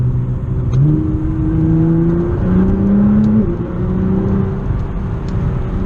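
A loud Nissan GT-R engine drones and rises in pitch, with quick jumps in revs as it downshifts in race mode, heard from inside the cabin.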